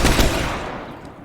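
A full-auto pistol shotgun fires in State of Decay 2, a dense, loud burst of blasts at the start that quickly decays into a fading echoing tail, with no talk over it.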